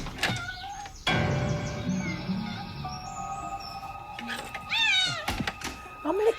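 Several cats meow in high, rising cries, with a few distinct yowls spread across the stretch, mixed with scattered thumps and other background sounds.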